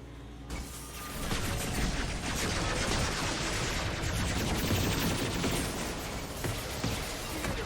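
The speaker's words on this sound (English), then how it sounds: "I like how the turret's actually shooting the one that's stealthed and everything" In the Mass Effect 2 video game, a hacked turret fires on enemies in sustained rapid bursts, dense automatic gunfire over battle noise that runs almost continuously after a brief quiet opening.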